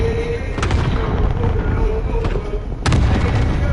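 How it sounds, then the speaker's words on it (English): Cluster strike explosions in Call of Duty Warzone boom at a distance, a few scattered heavy blasts over a dense battlefield rumble, the last one loudest and nearest. "Allied cluster strike arriving"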